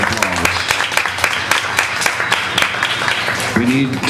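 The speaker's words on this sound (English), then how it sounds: "Can we give Shea Lynn a round of applause?" A live audience gives a round of applause at an evening community gathering, a steady wash of clapping running under a speaking voice for a few seconds.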